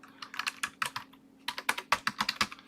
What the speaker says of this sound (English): I'll start typing it off